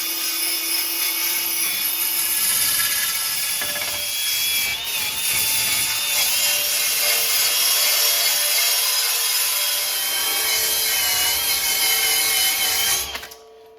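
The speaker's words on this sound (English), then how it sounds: "get a wire brush on the drill, and go to town on it" A drill spins a wire brush against a rusty rear body crossmember of a 1928 Model A, a loud, steady grinding whir that runs on for a long stretch, then winds down.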